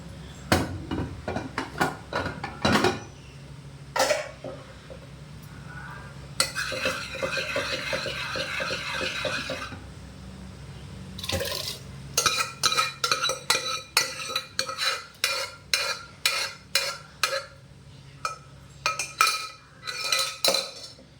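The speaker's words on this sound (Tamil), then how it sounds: "இப்போ அடுத்தது பருப்பையும் அதில் போட்டுடலாம்" Lentils go into a cooking pot and are stirred with metal utensils: sharp scraping clinks and taps in quick bursts, a stretch of soft sizzling in the middle, then rhythmic stirring strikes against the pot.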